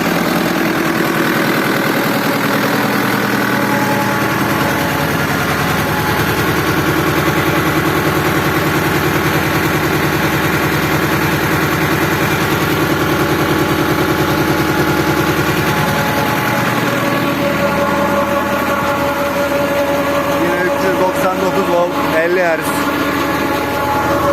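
A tractor drives a 55 kVA PTO generator through its power take-off shaft, running steadily and loudly with a constant mechanical drone throughout.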